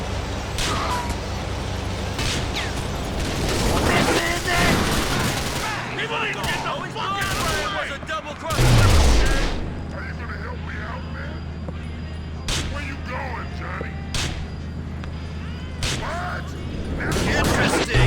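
Gunfire in the GTA The Lost and Damned video game, bursts of automatic shots and sharp bangs scattered through a chaotic firefight with shouting voices over it.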